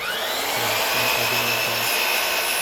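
A power tool cutting into quarter round baseboard trim, a loud steady whirring drone with a low intermittent grinding hum as the blade bites into the wood.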